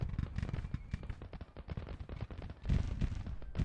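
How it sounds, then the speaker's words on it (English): Cannon fire from a Civil War artillery battery in the Grand Tactician strategy game: a rapid, continuous string of heavy booms and cracks overlapping one another, steady and fairly distant, with no voices. "Some artillery just opened up on those Rebs too."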